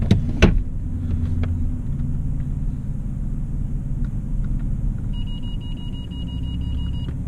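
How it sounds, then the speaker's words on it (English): A big Mercedes-Benz CL600 V12 rolls slowly up a driveway, a steady low engine rumble from inside the car with a thump at the start and a parking-sensor beep toward the end. "Going up my driveway right now, my car's not gonna go."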